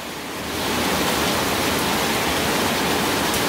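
A cave waterfall pours from the high ceiling of Hwanseongul cave, a loud, dense, unbroken roar of falling water that swells in over the first half second and then holds steady, with no voices.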